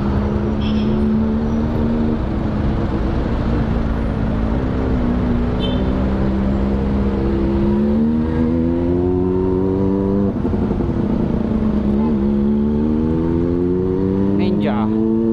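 Morning road traffic in Manila, heard from a moving motorcycle: a constant engine drone rises and falls in pitch as it revs through gears, with passing vehicles and a faint horn around it, all close and loud.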